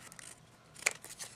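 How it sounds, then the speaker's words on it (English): Scissors snip through card paper with one sharp, close cut followed by a couple of lighter snips, brief and quiet, with no voices. "take your scissors and cut straight through to meet the"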